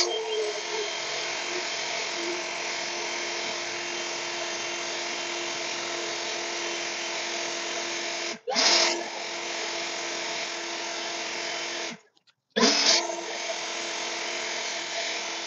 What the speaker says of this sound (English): I'm going to go ahead and finish blowing off the rest of this gravel.